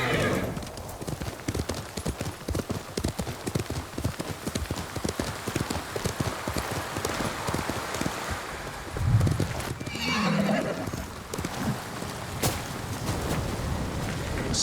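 Horses galloping in the video game Ghost of Tsushima, a dense rapid run of hoofbeats throughout with neighing and whinnying mid-clip, loud and close over a low rumbling game soundscape.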